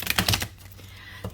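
Oracle cards being shuffled by hand: a quick burst of crisp riffling and flicking in the first half second, then near quiet, with one brief soft card tap at the end.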